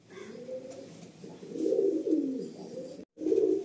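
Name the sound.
Madrasi pigeons cooing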